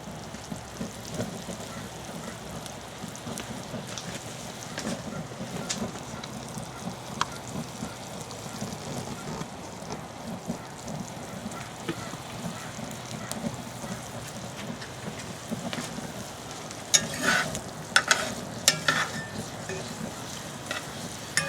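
A flambéed dessert burning out on a Weber grill gives a soft, steady sizzle and crackle, faint and close, with a few sharper pops and clatter toward the end.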